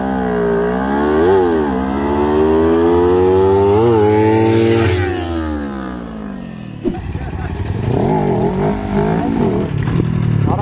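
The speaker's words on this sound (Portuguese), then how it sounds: "Quero ouvir o barulho, dos motores." Kawasaki Ninja 300 and Ninja 400 motorcycles race each other in a street drag, with loud, close engines revving hard and shifting up through the gears. A second burst of revving follows a sharp break.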